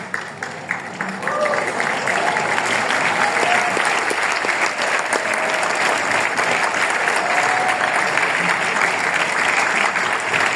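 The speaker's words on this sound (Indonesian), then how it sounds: "tepuk tangan" Sustained audience applause at an Indonesian seminar session, dense and steady clapping from a large crowd filling the space from start to finish, with some voices mixed in.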